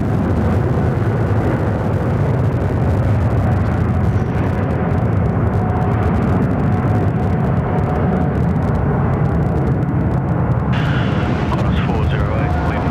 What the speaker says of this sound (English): Ooh, PC-24 coming out.